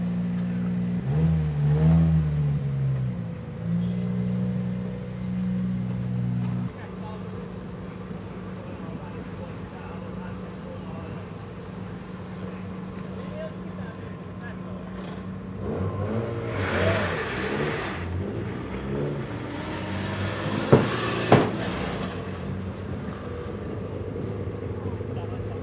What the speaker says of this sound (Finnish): Auto on Honda Civic Type R.